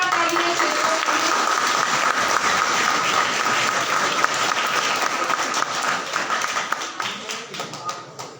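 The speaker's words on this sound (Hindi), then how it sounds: "तालियां रुकनी नहीं चाहिए।" An audience at an agricultural festival prize ceremony at a government horticulture college gives loud, dense sustained applause that gradually thins toward the end, with no speech over it.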